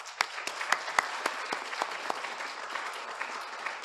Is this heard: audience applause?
yes